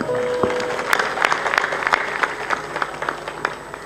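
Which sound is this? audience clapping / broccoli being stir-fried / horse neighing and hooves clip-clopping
audience clapping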